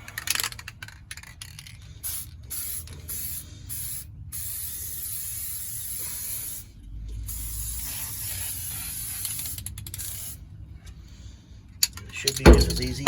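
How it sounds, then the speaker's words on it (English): Long hissing bursts of adhesive from a spray can, broken by short pauses, close by and steady, ending with some handling clatter. "Spray it on both sides."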